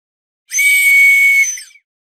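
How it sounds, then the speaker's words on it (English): A whistle blown in the video game The Search for the Dahu gives a single shrill, steady tone lasting about a second, loud and clean against silence. "I made me a whistle."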